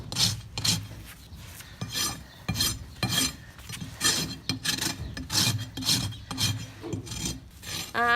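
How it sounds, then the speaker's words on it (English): Rough abrasive pad rubbing briskly over a surface to key it for glue, a steady series of close, raspy scrubbing strokes in even rhythm, with no talking. "Margaret has gone over to the more rough side to make the patterns for the good glue adhesion"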